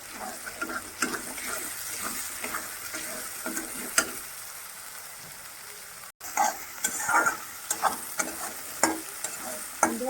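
Masala being stir-fried in a pan for a cabbage and paneer curry, with soft sizzling under repeated scraping stir strokes, close and moderately quiet, broken by a brief gap midway.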